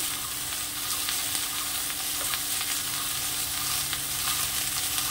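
Water lily stems sauté in a pan with slit green chilies, salt and turmeric, giving a steady, even sizzle with faint stirring scrapes and no voices.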